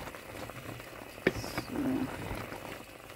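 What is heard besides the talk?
meat boiling in a pot for Nigerian stew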